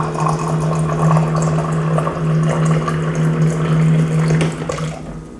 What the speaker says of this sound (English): I'm gonna put in my water here so it can steep while we're talking.